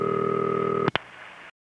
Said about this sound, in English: you'll hear the ring start right after the first set of loud clicks